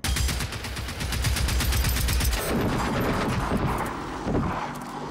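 Rapid automatic gunfire and explosions from the video game Generation Zero, a dense, loud barrage of shots that shifts into rumbling blasts and continues without a break.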